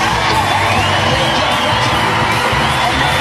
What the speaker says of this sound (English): Crowd still filing in to Devon Park. It's already a juiced atmosphere.